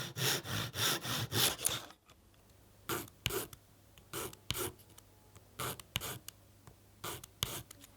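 Small wooden sticks having their cut ends sanded smooth, a broadband rasping that runs steadily for about two seconds, then breaks into short separate scrubbing strokes, fairly close and alone.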